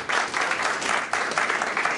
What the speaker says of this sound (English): Round of applause for that, for Lord Ahmed.